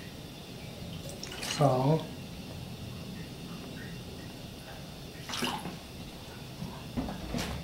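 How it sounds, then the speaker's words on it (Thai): Cold plain water spooned into flour batter for Thai crispy fried mussel pancake: brief soft splashes and trickles while someone speaks. "แล้วก็ตามด้วยน้ำเย็นนะครับน้ำเปล่า"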